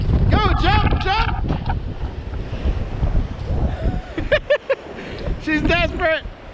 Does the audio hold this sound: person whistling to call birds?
no